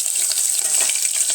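Chillies crackle and sizzle in hot cooking oil in a home kitchen, a steady close hiss with fine popping throughout.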